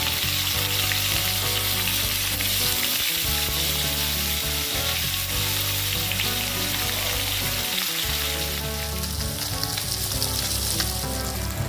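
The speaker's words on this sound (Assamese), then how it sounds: "এতিয়া গেছত এখন কেৰাহী পাতি লৈ অলপ মিঠাতেল দি তাতে মাছকেইটা এটা এটাকৈ ফ্ৰাই কৰি লৈছো।" Small puthi fish fry one at a time in mustard oil in a kadai on a gas stove. A dense, continuous sizzle holds close and loud for the whole stretch, with no voices.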